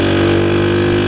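The engine of a Rusi Gamma 200 motorcycle runs at a steady idle, a close, loud, even hum with a strong low throb and no change in pitch over the brief stretch.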